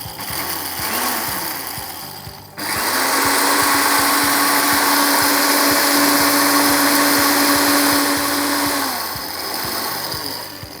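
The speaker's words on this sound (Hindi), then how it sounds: "ये इसको हम पीस लेंगे पहले।" An electric grinder pulverizes dried red chilies and cumin seeds, a loud close motor whine with rattling, clattering pulses, dipping briefly, then surging back strongly for several seconds before easing off.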